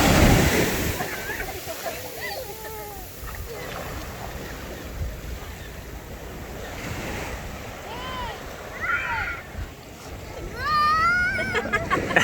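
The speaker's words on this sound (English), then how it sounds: "He's gonna get smashed by a wave." Ocean surf rolls and washes ashore at Balboa Beach, California, a steady broadband roar with wind noise on the microphone, while a child's and adults' voices call out over it.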